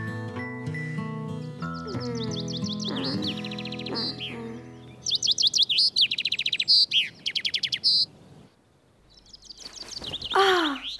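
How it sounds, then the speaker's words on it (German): Cartoon small bird singing: bright repeated chirping phrases and trills over playful background music, with a cluster of loud rapid tweets in the middle and a final burst of song. "Der kleine Vogel singt aber schön."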